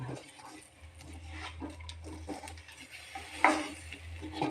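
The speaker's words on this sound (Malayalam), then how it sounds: "ബീട്രൂട്ടിൻ്റെ അരിപ്പൊടിയും ബീട്രൂട്ടും കൊള്ള ഇത് ബോളാക്കിയത് അതുകൂടെ നമുക്ക് മാറ്റി ഇളക്കാം." Beetroot and rice flour balls stirred in a pan, with soft scraping and clinking of a utensil against the cookware, quiet and close, with a low steady hum underneath.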